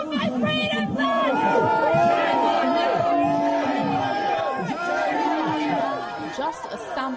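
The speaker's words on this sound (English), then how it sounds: "Just a sample of the booing that Boris Johnson is now getting used to" A loud crowd of protesters shouts and boos at UK Prime Minister Boris Johnson, a dense continuous roar of jeering voices and yelling close by for several seconds.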